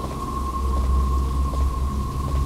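Steady rain falls in the blocky video game Slendercraft, a dense constant patter and hiss with a low rumble and a sustained ambient tone, fairly loud with no voices.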